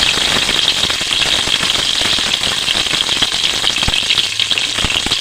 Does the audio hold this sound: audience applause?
no